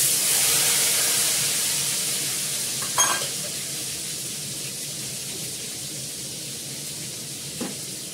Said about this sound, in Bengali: লাল করে আলুটা ভেজে নিলাম। টমেটোটা দিয়ে দিলাম